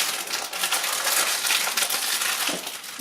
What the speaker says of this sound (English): now we're going to open our bag of hazelnuts